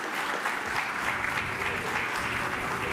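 A crowd at a ceremony honoring Indian sports icons applauds steadily, dense clapping holding at an even level from start to finish with no pauses.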